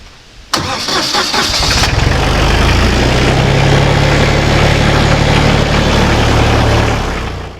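The engine of a mortar mixer at a cabin footing site cranks with a rapid chatter, catches, and settles into a loud, steady, close-up rumbling idle.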